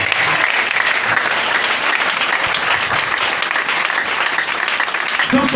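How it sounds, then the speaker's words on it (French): A church congregation at an Easter service applauds in a loud, continuous wash of clapping that holds steady from start to finish, close and filling the room. "Est-ce que tu peux l'acclamer encore?"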